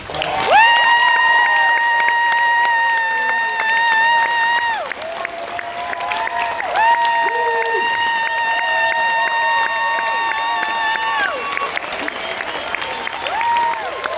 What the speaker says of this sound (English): Let's have a nice round of applause for our cruise director